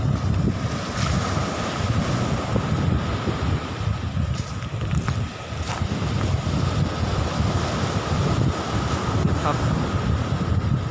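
Sea surf washing onto a sandy beach at Nong Bua in Thailand, with steady wind buffeting the microphone; a continuous, loud roar of breaking waves with no talk.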